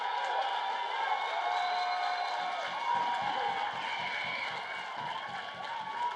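A crowd of Medford fans at a high school baseball league final comes alive after a triple, with sustained, fairly loud cheering and shouting spread evenly across the clip, followed by scattered clapping later on.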